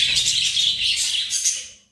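A pet budgerigar chirps in a quick, continuous run of bright, twittering notes, close and fairly loud, fading out at the end.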